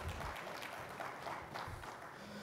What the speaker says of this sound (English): Please give a nice round of applause to Ronald